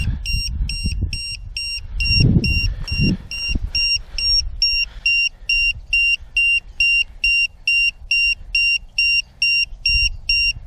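High electronic low-voltage battery alarm of an Eachine Wizard X220 drone outdoors in the cold, steady at first then pulsing in regular rapid beeps, with some wind buffeting and handling noise underneath.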